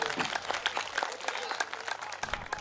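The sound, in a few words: audience applause for performer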